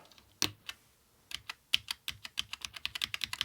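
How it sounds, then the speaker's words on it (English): Amiga 500 mechanical keyboard switches and keycaps clip back in with sharp plastic clicks, a few scattered snaps first, then a fast, steady run of close, crisp clicks. "the sound of the mechanical switches"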